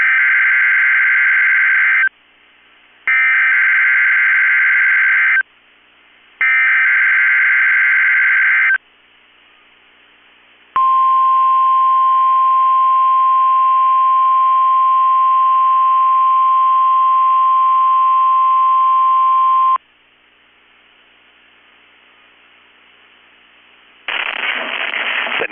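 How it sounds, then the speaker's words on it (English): A NOAA weather radio warning alarm from a Minnesota weather service broadcast: three loud bursts of a harsh two-tone data squeal, then a long steady high alert tone, then a short burst of noisy data at the end. "has just activated the warning alarm on 13 weather radio stations across central and southern Minnesota and west central Wisconsin"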